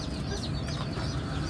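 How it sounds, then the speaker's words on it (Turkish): A forest chicken, a hardy wild-type hen, clucks in a steady run of close, busy calls over a constant rustling background, with no one talking. "yaban adı üzerinde orman tavuğu dediğimiz bu tavuk benim için çok kıymetli"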